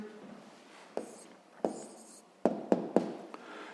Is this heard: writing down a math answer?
yes